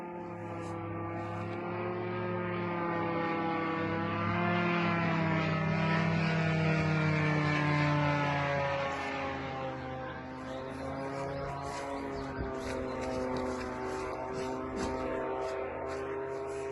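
A Romanian Eurofighter jet passes overhead, a sustained deep engine roar that swells loudly toward the middle and then slowly fades, with layered droning tones throughout and no speech.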